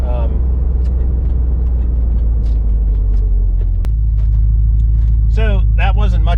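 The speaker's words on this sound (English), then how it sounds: "So that wasn't much of a test drive. It was just a couple miles" A 1992 Ford Mustang LX 5.0 convertible on a test drive gives a steady, loud low engine and road drone throughout, with voices briefly rising over it near the end.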